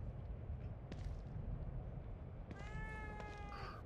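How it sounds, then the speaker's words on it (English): A cat in the horror game The Evil Within 2 gives a drawn-out meow over a rumbling ambient background, preceded by a few faint clicks. "A cat. Hello, cat."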